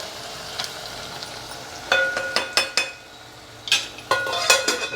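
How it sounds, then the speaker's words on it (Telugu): Tomatoes, drumsticks and cucumber fry in oil in a pot, a soft steady sizzle broken by bursts of metallic scraping and clinking from stirring. "అప్పుడప్పుడు మూత తీసి వేయించుకుంటూ ఉండండి"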